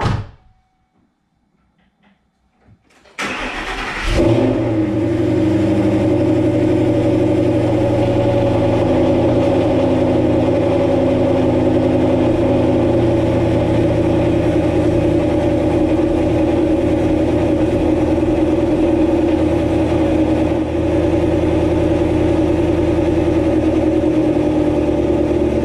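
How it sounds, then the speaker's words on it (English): Car engine cold-starting in chilly autumn air: a brief quiet, a short cranking burst, then the engine catches and settles into a loud, steady idle that drones evenly for the rest of the clip. "We'll get on with it, let you check out the cold start"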